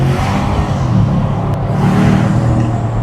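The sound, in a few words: Porsche Cayenne V8 engine revving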